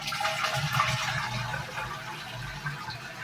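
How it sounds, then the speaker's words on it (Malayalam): A toilet with a broken flush mechanism is flushed. Steady rushing water runs close by for about three seconds, and no one speaks. "എന്നിട്ട് നമ്മളിതൊന്ന് ഫ്ലഷ് ചെയ്ത് നോക്കാം."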